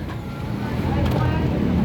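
Jeepney engine idling steadily after finally starting following a breakdown in the garage, a continuous low diesel rumble that grows slightly louder partway through, close and unbroken.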